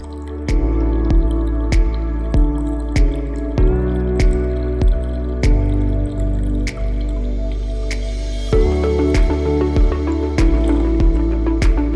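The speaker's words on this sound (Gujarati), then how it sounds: "હવે આપણે એમાં થોડું પાણી એડ કરીશું." Water trickles and drips into a mixture in a steady series of sharp drops, with a humming tonal background underneath.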